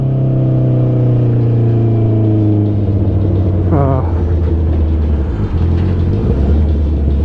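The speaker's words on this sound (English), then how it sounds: "I do like the sound of the exhaust" A 2019 Honda CB650R motorcycle runs nearby with a loud, steady exhaust drone, the engine note rising in a brief rev in the middle before settling back to a constant rumble.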